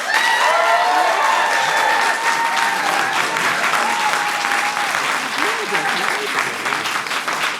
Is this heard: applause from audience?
yes